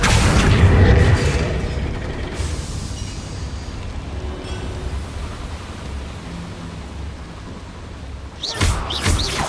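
A Confringo blasting spell explodes in Hogwarts Legacy inside a small mine, opening with a loud booming blast that settles into a long rumbling roar of debris and ambience, with a second sharp burst near the end.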